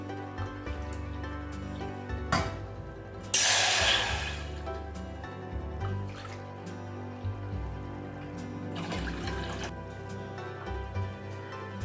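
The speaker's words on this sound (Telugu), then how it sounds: "1 కప్పు సేమియాకి 2 కప్పులు వాటర్ పోసుకోవాలి." Water poured into a pot for cooking vermicelli, a burst of splashing pour lasting about a second, then a quieter second pour later, over a steady low hum.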